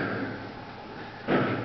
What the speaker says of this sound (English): Noise you hear, those shutters right there.